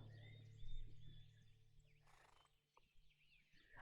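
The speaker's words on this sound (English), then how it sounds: "Oh, and I'm hearing horses." A horse whinnies faintly in a brief, noisy burst within a video game, with low rumbling ambience and a few soft clopping sounds around it.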